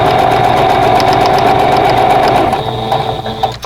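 A sewing machine stitches a quilt block seam in a steady, fast mechanical whir with rhythmic needle clatter, close and continuous, slowing slightly near the end.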